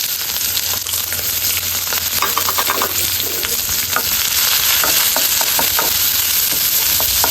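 Green chilies sizzle loudly in hot soybean oil in a pan for a dried-fish and potato curry, a constant close frying hiss broken by scraping and stirring clatter from a spoon.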